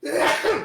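One short, sharp sneeze bursts out close to the microphone during a tabletop role-playing game session, over in under a second.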